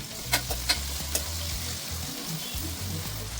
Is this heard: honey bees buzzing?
no